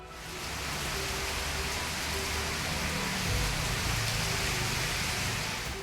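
Heavy evening rain pours steadily on a road in Yelahanka, Bengaluru, a dense, continuous hiss with faint low traffic rumble beneath and no voices.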